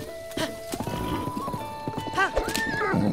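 A horse in a Zelda Breath of the Wild game gallops with steady clip-clop hoofbeats and gives a rising whinny near the end, with game music and ambience running underneath.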